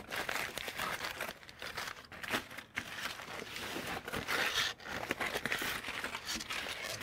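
Aluminum foil crinkles and tears as a smoked brisket is unwrapped after cooking on a Pit Barrel Cooker, with steady close crumpling and rustling throughout and no talk.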